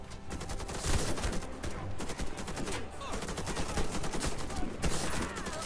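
Dense, continuous gunfire in the Warface shooter on the Cold Peak: Spearhead mission, with rapid automatic bursts and overlapping shots filling the whole stretch, loud and busy.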